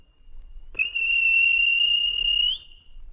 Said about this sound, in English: Then the guard blew his whistle